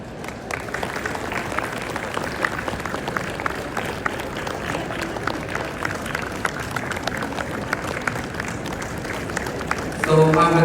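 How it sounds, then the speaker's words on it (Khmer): Sustained audience applause fills a ceremony hall welcoming Cambodia's prime minister, steady dense clapping from a large crowd lasting throughout, with a slight swell near the end. "អង្គពិធីទាំងមូលនឹងអបអរសាទរតែម្ដង"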